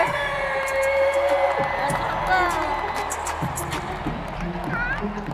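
A basketball arena crowd roars in a loud, sustained cheer that holds steady and slowly eases off, with voices carrying over the din.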